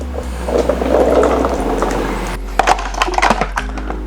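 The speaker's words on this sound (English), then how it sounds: "So now we're gonna go ahead and bring in all of our chickpeas." Chickpeas tumble into a food processor of hummus with a soft liquid slosh, followed by a run of sharp clattering taps and knocks close by.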